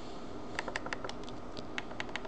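Keys clatter on a computer keyboard in an irregular run of quick, crisp taps, close and fairly quiet, over a steady hiss, with no talking.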